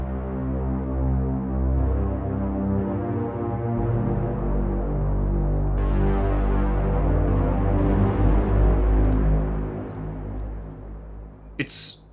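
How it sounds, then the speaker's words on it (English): A retro synth runs through Native Instruments Raum reverb as a dense, dark sustained chord drone with a deep rumbling low end, swelling and washing continuously before a couple of sharp clicks at the close, with no talking. "This is the sound of retro synth using Raum."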